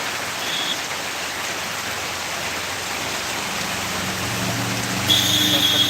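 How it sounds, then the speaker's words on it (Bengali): Heavy torrential rain pours down in a dense, steady hiss that stays loud throughout, with a faint tone rising near the end. "বৃষ্টির তীব্রতা আরও বৃদ্ধি পেল"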